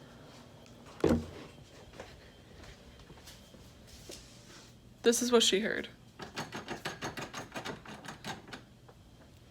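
A house door handle with its own distinctive sound: one sharp knock, then a rattling clatter followed by a quick, rhythmic run of metallic clicks. A voice speaks briefly at the start.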